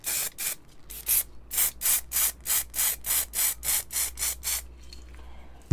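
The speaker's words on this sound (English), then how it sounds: "I need to put a little bit of spray into it." About a dozen short hissing bursts from an aerosol spray can, fired in a quick even rhythm, close up, then quiet.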